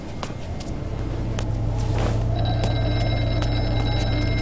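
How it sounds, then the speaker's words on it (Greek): A telephone rings inside the Horror Night VR video game, a steady electronic ringing that begins midway through over a constant low hum and scattered faint knocks. "Ένα τηλέφωνο ακούω"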